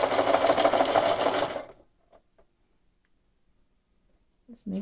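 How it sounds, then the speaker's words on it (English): A sewing machine runs steadily as it stitches binding onto a quilt, a close, even mechanical whir for about a second and a half before it stops, followed by quiet and a brief bit of talking. "And then you just stitch right back onto your project."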